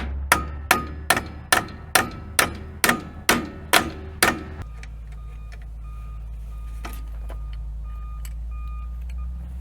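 About nine evenly spaced, ringing metallic hammer taps on a bolt with a nut threaded on it during alternator repair on a Farmall Model H tractor, loud and close, then a low steady hum with faint clinks and no speech.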